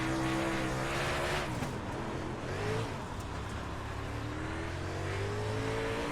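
A dirt super late model race car in iRacing roars at high revs, a dense, continuous engine note rising and falling as the car slides sideways, with faint tire noise underneath.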